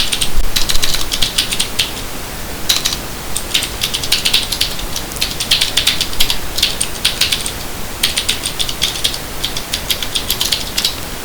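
Computer keyboard typing while writing code, a steady run of close, crisp key clicks in bursts with brief pauses, no talking.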